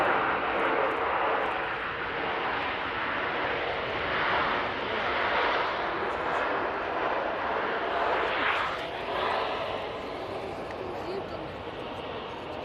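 Qatar Airways airliner at Manchester Airport, a sustained jet engine roar that swells and fades in waves as it moves, moderately distant, with people talking over it.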